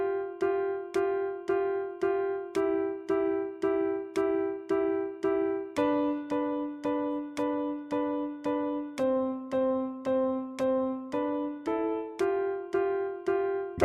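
Piano melody in which every note is struck six times in a steady even pulse, each group stepping to a new pitch, played close and clear with nothing else heard.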